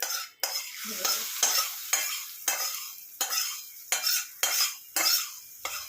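Hot spice tempering poured into curd for Nepali chukauni and stirred in, a spoon scraping the bowl in a steady rhythm of about ten strokes over a crackling sizzle, close and fairly loud, with no talking.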